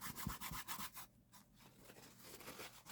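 A paper towel rubs and dabs against wet pastel underpainting on paper. The soft scuffs and brushing strokes are quiet, close and intermittent, with nothing else heard.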